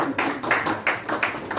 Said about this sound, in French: Je vous prie, s'il vous plaît, d'applaudir Monsieur Pierre Ndjonjo